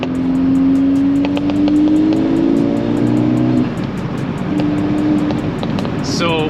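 A Volkswagen MK6 GTI, front-wheel drive, revs its engine with a rising, droning exhaust note that sweeps upward and then drops back, loud and close, with voices talking over it.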